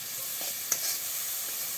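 Onion, green chili, spice paste, turmeric, chili powder and salt sautéing in a pan, giving a soft, even sizzle with one brief tap of a utensil partway through.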